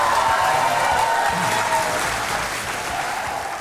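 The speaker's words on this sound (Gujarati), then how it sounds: "તો આ તાળીઓ વાગતી રહે।" Studio audience on a courtroom-style TV show keeps applauding, a dense, even wash of clapping that holds steady and tapers slightly toward the end.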